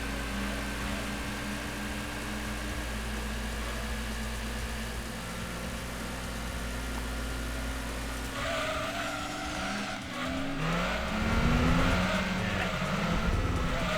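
A Toyota Prius racing car in a video game, its engine droning steadily with tonal whine and tyre noise, shifting pitch and rising in loudness toward the end as the car pulls away, with no talk.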